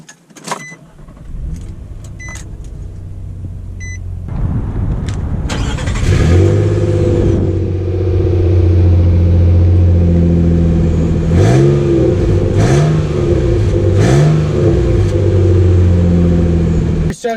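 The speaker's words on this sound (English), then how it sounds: "let's take the new Frontier out to see how it drives" A 2019 Nissan Frontier Pro-4X pickup heard from inside the cab: a few quiet seconds, then the engine cranks and catches, settles into a loud, steady drone and revs up and down several times as it pulls away.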